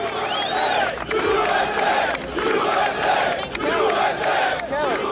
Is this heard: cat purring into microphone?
no